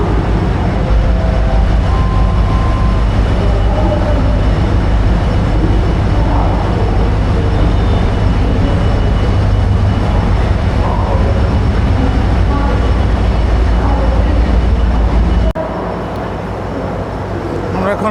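Colombo's main railway station in Sri Lanka hums with a loud, constant wash of crowd noise, murmuring voices and low machinery drone, and the sound drops slightly in level near the end.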